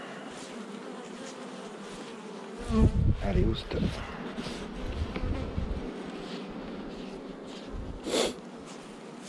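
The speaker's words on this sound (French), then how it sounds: "on va quand même essayer de débarrasser au maximum le cadre des abeilles" Honeybees buzz around a hive frame outdoors in the wind, a steady close drone with gusts of wind noise and brief handling sounds, while someone speaks French briefly.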